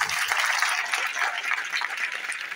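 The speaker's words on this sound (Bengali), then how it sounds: "তো প্রথমে সুমন্ত স্যারের জন্য একটা জোর করে হাততালি।" Audience applause for a teacher at a Teachers' Day celebration: a steady, dense wash of many hands clapping at moderate distance, unbroken for a few seconds with no voices over it.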